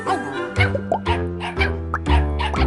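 A Dalmatian dog gives a string of close, loud, yappy barks and whiny yips in quick uneven bursts, filling the short stretch with little else around it.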